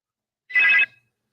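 A telephone rings once with a short electronic trill on a call-in show, clear and isolated against silence, lasting under half a second.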